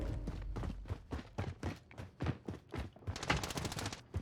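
Gunfire in Warzone, a rapid series of sharp shots in quick bursts at moderate distance, the rate picking up near the end.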